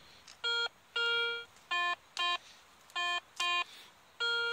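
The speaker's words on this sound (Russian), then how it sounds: "сразу на железку сигнал у меня" A metal detector sweeping over buried iron while treasure hunting gives a series of loud, close electronic tones, about seven short and long beeps in an uneven rhythm with brief quiet gaps.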